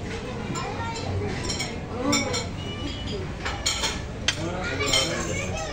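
Cutlery and dishes clink repeatedly through a busy restaurant meal on the ground floor of a two-storey eatery, light taps and chinks scattered over steady room chatter and voices.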